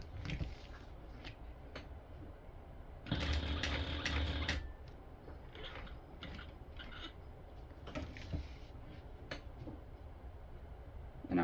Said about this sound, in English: I'm just sewing a box.